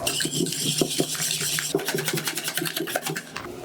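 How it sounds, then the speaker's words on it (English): A whole egg with white sugar and a pinch of salt is whisked in a bowl, producing rapid, close metallic clinking and scraping that quickens into a fast, even rhythm. "Whisk it till it's frothy and pale."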